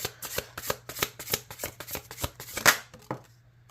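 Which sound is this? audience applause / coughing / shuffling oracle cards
shuffling oracle cards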